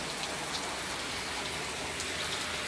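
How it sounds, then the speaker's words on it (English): Light rain falls steadily on the street on a rainy day, a dense, even patter and hiss that stays constant and close throughout, with no voices. "Well, at least it ain't no heavy rain."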